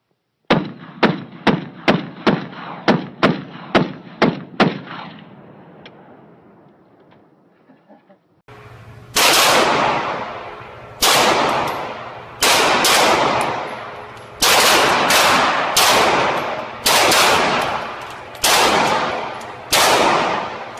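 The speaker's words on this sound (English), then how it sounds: "Ah, 50 cal from the shoulder. Firing." A .50 caliber rifle fired from the shoulder at an outdoor range: a rapid string of about ten sharp, evenly spaced shots, a brief lull, then seven louder, closer booming reports with long echoing decays.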